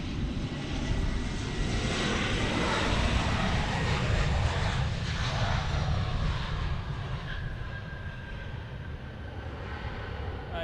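A Delta Air Lines Airbus jet at Bergstrom International Airport roars in a loud, sustained engine rush that swells slightly mid-way, with a rising whine, heard from nearby outdoors and with no talk.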